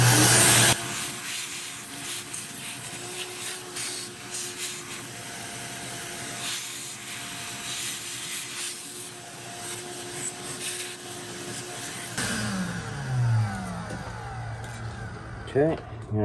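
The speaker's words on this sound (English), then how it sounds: "let's vacuum this out real quick." A shop vacuum runs steadily while cleaning dust out of a 60-year-old Shopmate circular saw during a repair, a continuous close whine with shifting pitch as the nozzle moves, ending with some handling noise.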